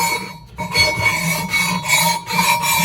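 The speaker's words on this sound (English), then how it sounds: "I like to take a flat file, bastard file, whatever you want to call it, and just rub it on this machine surface" A flat bastard file rasps across a machined metal surface on a Jeep JK differential cover, steady rubbing strokes with brief pauses between them, loud and close with no voices.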